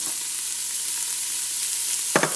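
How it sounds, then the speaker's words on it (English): Chopped onions, carrots and celery sweat over low heat in a soup pot for borscht, giving a steady soft sizzle with a brief clatter of stirring near the end. "So that's 2 small onions, 2 carrots, and 3 or 4 pieces of celery that I put in the pot right now."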